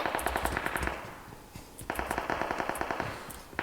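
Rapid automatic gunfire in PUBG Mobile, loud bursts of rattling shots with a brief pause in the middle before firing resumes steadily to the end.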